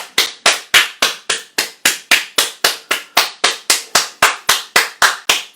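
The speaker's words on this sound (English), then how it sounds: "Everyone, round of applause" Sharp, evenly spaced slaps of hands striking the body during a grounding meditation, about three per second in a steady rhythm, close and loud with nothing else heard.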